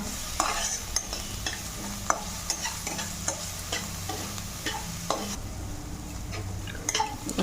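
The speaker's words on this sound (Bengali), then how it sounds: "নুন দিয়ে পেঁয়াজটাকে একটু ভেজে নেবো হালকা" Onions with salt and turmeric frying in a pan, a steady close sizzle broken by repeated scrapes and clinks of a spoon stirring against the metal, no voices.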